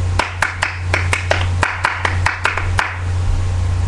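Hand clapping in a drum-beat rhythm, about a dozen sharp, close claps in an uneven pattern over a low steady hum.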